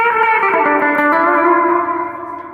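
A sustained guitar chord rings out through a reverb effect, its shimmering tail hanging and slowly fading away.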